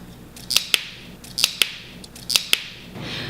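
Fresh asparagus spears broken one after another by hand in a home kitchen, three snaps each with a crisp double crack, evenly spaced, close and clear without any voices.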